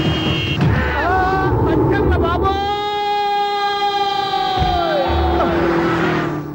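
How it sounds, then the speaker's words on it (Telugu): A vehicle sounds a loud siren in place of a horn, a long rising and falling wail close by over street noise, with brief voices before it starts. "హార్నెట్టండి బాబు, సైరన్నే కొట్టాడు"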